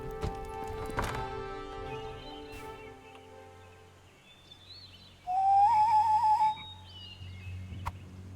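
Soft, steady clip-clop of horse hooves in the game Lord of the Rings Online, under a quiet synthesized tone, followed by a brief, louder whistling sound that wavers and then stops.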